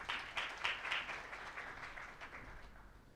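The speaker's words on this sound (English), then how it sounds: "Another round of applause" An audience at a national public policy symposium on basic education gives a round of applause, a dense patter of many hands clapping that swells early, then gradually thins and fades, heard alone without talk.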